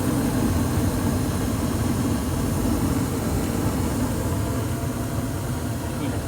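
A newly installed gas forced-air furnace fires up, with its main blower motor and inducer blower producing a steady, loud, broadband roar and hum that continues unchanged throughout.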